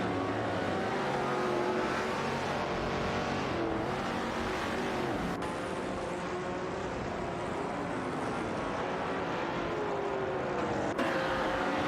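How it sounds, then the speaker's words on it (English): Race cars in an AI-driven racing video game roar continuously around the track, with engine whine rising and falling as cars pass and shift, steady and loud throughout with no talking. "They are really pushing hard to catch up to the leading cars."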